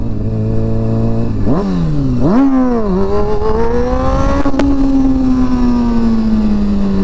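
Motorcycle engine revving hard during wheelie practice, with sharp throttle blips and pitch swoops early on, then a sustained high rising drone, loud and close with no talk.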